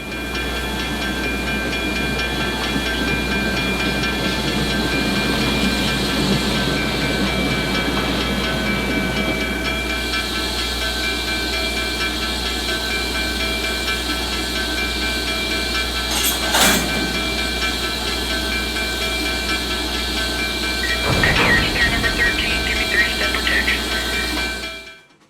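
A Trainz simulation train led by locomotive number 13, with an SW-1500 coupled behind, rolls past steadily with continuous rumble and hiss and brief clanks, growing louder near the end; no talking.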